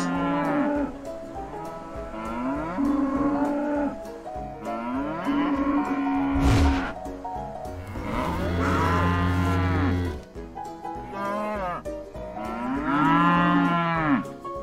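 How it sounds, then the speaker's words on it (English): Several video game cows moo loudly in long, drawn-out calls, one after another, close by and with no talking. "Those cows are doing something."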